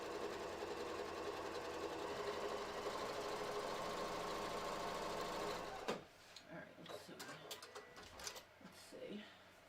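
A sewing machine stitches steadily with a fast, even mechanical whir for about six seconds, then stops abruptly, leaving quiet room sound and faint handling noises.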